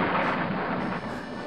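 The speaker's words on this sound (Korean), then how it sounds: "하나님께서 기도를 들으시고 천둥 소리를 나게 하셨어요." Deep, rolling thunder rumbles steadily and loudly for the whole moment, a broad roar with no break and no voices.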